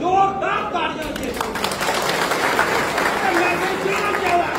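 Crowd applause and cheering at a National Conference election rally in Vijaypur, Jammu and Kashmir: a dense, steady roar of clapping and voices that holds loud and continuous throughout.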